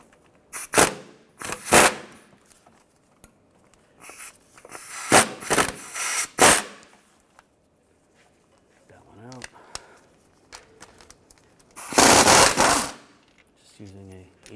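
Impact wrench bursts zip out 18mm bolts on a 2005-2010 Chevrolet Cobalt during a clutch replacement, several short loud rattling hits spaced across the span, with a louder sustained burst near the end and brief talk in between.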